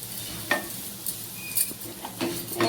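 Ivy gourd and potato fry sizzling in oil while a utensil stirs and scrapes the pan in several bursts, close and fairly loud, with a steady frying hiss underneath and no talking.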